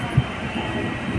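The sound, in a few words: train departing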